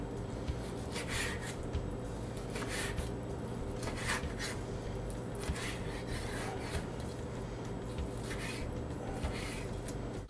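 A knife slices skirt steak into strips on a board, giving a continuous rasping, rubbing sawing sound with repeated strokes, close by and without speech.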